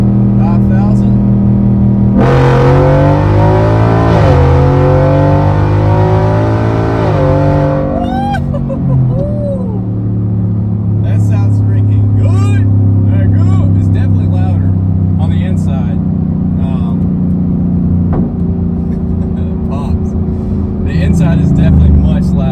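A car with its exhaust tailpipe cut off revs hard and loud, with rising and falling engine pitch. Steady rumble and wind noise fill the rest.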